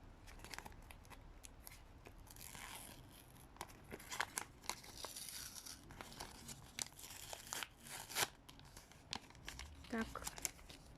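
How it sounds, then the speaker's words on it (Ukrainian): Quiet close-up crinkling and tearing of a small perforated paper surprise packet, in short irregular rips and rustles. "Ось такий пакетик. Відкриваємо його. Так, тут у нас перфорація."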